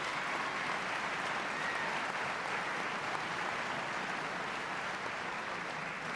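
A theater audience at a State of the State address breaks into sustained, even applause for the hosts, a broad wash of many hands clapping for several seconds with no voices above it.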